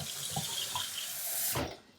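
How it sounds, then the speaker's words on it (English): Cold tap water runs steadily into a sink or bowl for soaking potatoes in a home kitchen, a continuous close splashing hiss that stops near the end with a brief clunk. "So I'm going to put really cold water"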